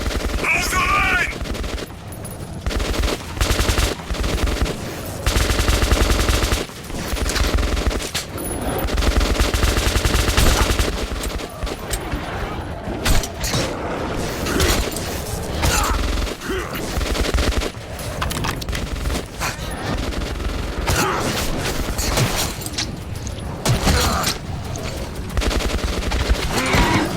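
Sustained bursts of automatic gunfire and rapid shots from Metro 2033 Redux combat, loud and dense throughout with brief pauses, layered over game effects and a faint voice.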